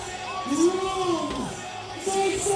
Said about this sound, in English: The crowd here in Osijek is going absolutely nuts, cheering on our rider